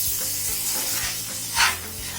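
Masala with sugar for dhoka'r dalna sizzles in a pan while being stirred, a steady close frying hiss broken by rhythmic spoon scrapes and one brief louder splutter.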